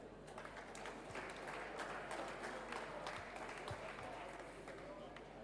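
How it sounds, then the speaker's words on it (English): Sustained audience applause at a Rotary Foundation seminar and dinner greets the District Governor, steady dense clapping that fills a large room evenly throughout with a faint murmur of voices beneath. "Please, ladies and gentlemen, give a round of applause for our District Governor, DG Oke Okonkwo."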